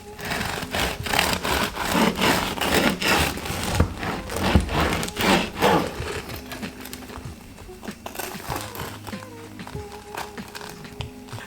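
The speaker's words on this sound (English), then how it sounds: "we're going to do another sound reveal, so just listen to that crust" Loud, close crunching of crisp focaccia crust, a run of rough crackly bites and tears that ease into quieter rustling and faint background sounds.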